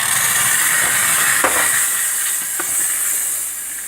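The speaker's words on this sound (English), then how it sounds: "Steam on, give everything another bit of a purge." An espresso machine's steam wand purging, a steady loud hiss of steam running continuously with a couple of brief sputters, no voices.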